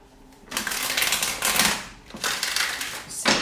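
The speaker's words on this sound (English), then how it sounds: "I'm going to stick to 4 shuffles between each reading" Brisk riffling bursts of tarot cards being shuffled, three or four quick rounds close by, with no talking.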